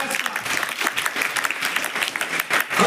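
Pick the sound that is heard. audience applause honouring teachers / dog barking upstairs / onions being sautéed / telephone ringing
audience applause honouring teachers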